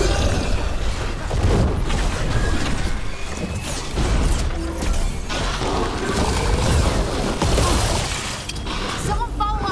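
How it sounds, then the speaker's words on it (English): A magic missile spell bursts in a fantasy video game as a dense, continuous rush of crackling, clanking and booming effects, with voices talking over the din. "Magic missile!"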